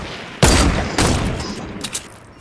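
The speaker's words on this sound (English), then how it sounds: "I didn't even shoot where I wanted to go." Gunfire in the video game Fortnite: two loud close bursts about half a second apart, each followed by a decaying rumble and faint smaller cracks trailing off.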